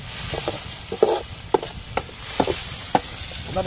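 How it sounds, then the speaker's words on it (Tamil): Rabbit fry with green chillies stirred in a pan, quiet sizzling beneath a series of distinct scraping and clacking strokes of a spoon, close and fairly loud, with no speech. "சார் கிண்டு ஒரு கிண்டு கிண்டு பார்க்கலாம்"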